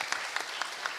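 Brief burst of applause from a conference audience welcoming speakers at a forum, steady clapping with a few sharper claps standing out.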